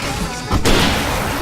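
Fireworks going off in the Alan Wake video game, a sudden loud boom cutting through dense game noise and a dramatic score, followed by a rumbling wash of sound.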